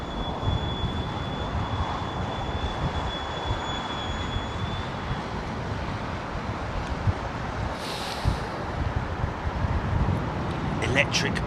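A Boeing 787 Dreamliner rumbles at London Heathrow Airport, a broad, steady engine roar heard from a distance throughout, with a voice talking over it.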